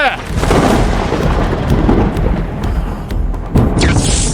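A deep, rumbling thunder-like boom rolls continuously under loud dramatic effects, with a sharp crackling burst near the end.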